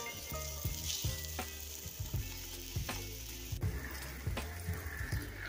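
Flour and cornmeal tortillas frying in a lightly oiled pan over medium-high heat, a soft continuous sizzle with repeated small clicks and taps of handling throughout.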